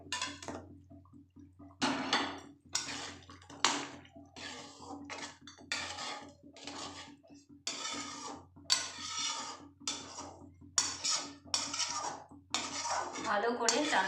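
Kofta balls are dropped into a pot of boiling bottle gourd curry, giving a run of clattering metal-pot knocks and utensil clinks among soft bubbling. No one talks.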